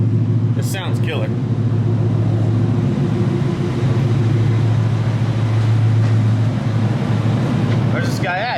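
A 2024 Ford F150 with a Whipple Stage 2 Gen 6 supercharger on a 4.0 pulley and MBRP exhaust idling, a loud, steady low rumble close to the mic with a constant droning hum.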